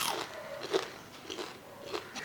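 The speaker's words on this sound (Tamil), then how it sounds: "வடை நல்லா முறுமுறுன்னு நல்லா கிறிஸ்பாக இருக்குது" Crispy fried corn vada being bitten and chewed, with a few soft crunches spaced across a couple of seconds, close and fairly quiet, no talking.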